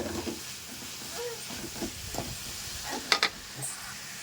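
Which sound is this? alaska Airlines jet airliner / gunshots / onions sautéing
onions sautéing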